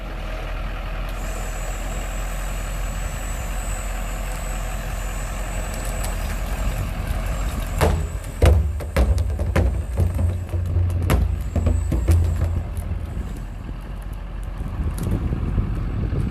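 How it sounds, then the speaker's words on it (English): A dump truck drives forward and raises its bed to dump barrels: a loud, steady diesel rumble with a high whine, then a burst of clanks and knocks as the barrels tumble out. "He's using the action to raise up the back of the truck and to dump the material inside"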